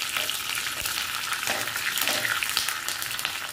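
Curry leaves and mustard seeds sizzle in a spoonful of hot oil in a pan, a loud, dense crackling hiss with small pops, heard close and without talk.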